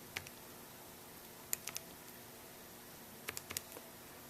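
Calculator buttons are pressed to key in numbers, small sharp clicks in two short bursts separated by quiet, close and faint, with no voices.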